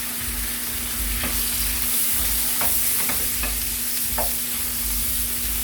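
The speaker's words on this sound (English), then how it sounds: "I'm going to let the mushrooms cook with the meat." Mushrooms and steak fry in butter in a pan, giving a steady close sizzle with a few soft scrapes and stirring taps scattered through it.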